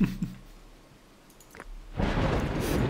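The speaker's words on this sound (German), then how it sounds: "jetzt hör doch mal auf zu donnern" Thunder in the video game Dawn of Man, a deep rolling rumble that swells up after a quieter stretch and keeps going to the end, with no talk over it.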